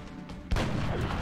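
A sniper rifle shot fires in XCOM Enemy Within: a single sudden loud crack halfway through, followed by a heavy rumbling tail over steady game ambience.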